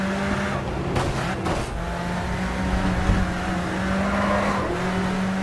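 A race car engine drones steadily in the racing game GRID 2, a dense, loud, continuous roar with slight shifts in pitch, heard alone without voices.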